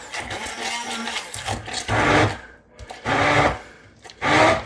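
A blender whirs through a thick roasted habanero salsa with little liquid, running in three loud bursts separated by short pauses, with a softer motor hum between them.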